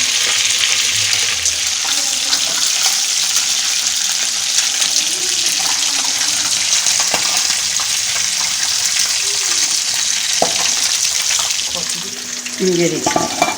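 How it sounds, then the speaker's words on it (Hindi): Fish sizzles and crackles in a pan of hot oil for a Pakistani-style fish masala, a steady bright frying hiss with occasional stirring clatter close by. "बस हमारी फिश फ्राई हो जाए।"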